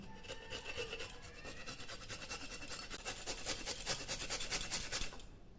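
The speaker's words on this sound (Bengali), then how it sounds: "এখন আমি এই শালগমটা এইরকম করে ঘষে নেব।" A peeled turnip rasped by hand against a kitchen grater in steady, rapid back-and-forth strokes, a dense scratchy grinding that runs continuously and grows slightly louder toward the end before stopping.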